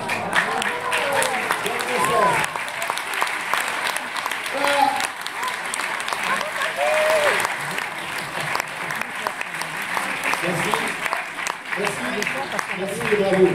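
An audience at a charity show applauds a magician after a scarf trick, sustained clapping throughout with a presenter talking over it.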